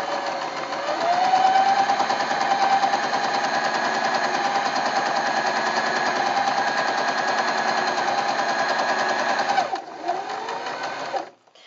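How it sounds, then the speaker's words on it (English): A sewing machine runs a continuous straight stitch through fabric to gather a ruffle, a steady close mechanical whir for about ten seconds that stops abruptly, followed by a brief shorter burst. "So you just feed that through the machine"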